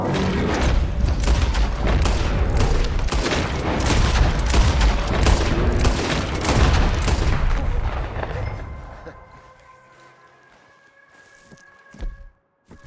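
Gunfire aimed at a creature in Red Dead Redemption 2, a dense, loud volley of rapid shots and booms that rattle on for several seconds, then cut off into quiet with a few faint tones and a last sharp crack.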